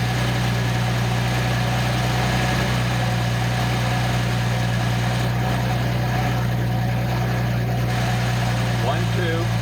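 A Nissan 280ZX turbo engine idles on a test stand, a loud, steady, close mechanical hum with a constant low drone and faint higher whine, with a person talking nearby.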